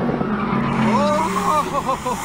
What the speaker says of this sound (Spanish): Acelera como una loca, las llantas pierden tracción y se va.